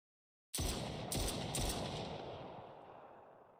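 An assault rifle in an Unreal Engine 5.7 weapon demo fires three sharp, close shots about half a second apart after a brief silence, each followed by a long reverberant tail that fades out alone.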